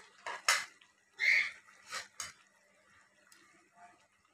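Cooked fish being added into a pan of greens: a few distinct metallic clinks and scrapes of a utensil against the pan, with soft wet shuffling between, close and fairly quiet.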